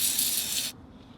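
Penetrating spray hisses from an aerosol can onto the suspension bolts of a 2004–2013 Mazda 3, one steady close burst lasting under a second before cutting off.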